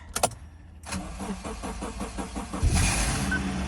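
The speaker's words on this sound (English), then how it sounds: "Hopefully it will be enough to start the car." A starter cranks with a rapid chugging whir, then the engine catches and settles into a steady running hum.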